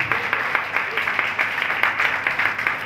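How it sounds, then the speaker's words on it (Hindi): Loud applause from an audience at a Rukmani wedding ceremony performance, dense steady clapping throughout the short stretch. "जोरदार ताली"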